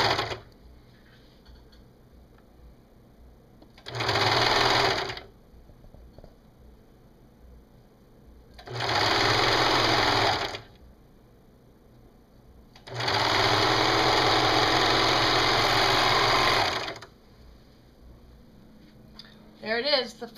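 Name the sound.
sewing machine stitching a T-shirt sleeve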